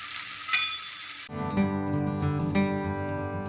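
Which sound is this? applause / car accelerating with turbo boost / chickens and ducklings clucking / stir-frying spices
stir-frying spices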